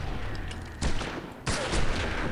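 Gunfire from the video game Red Faction 2: two loud bursts of shots break in sharply about two-thirds of a second apart, sustained crackling blasts over a steady low game-ambience rumble, with no talking.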